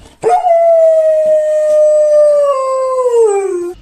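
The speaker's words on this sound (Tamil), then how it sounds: "அந்த நாய் சட்டென தன் தலையை வானத்தை பார்த்து உயர்த்தி ஒரு நீண்ட நெஞ்சை பிளக்கும் ஊளையை இட்டது" A single dog lets out one long, loud, mournful howl that holds steady for several seconds, then slides downward in pitch as it fades, heard alone and close.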